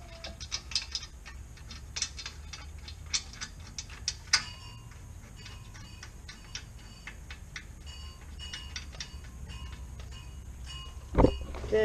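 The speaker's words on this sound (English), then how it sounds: "Go ahead and tighten them up." A ratchet tightens the brake caliper bolts on a Ford Mustang GT, giving bursts of close, quick clicking between quieter pauses, ending with a louder metallic knock.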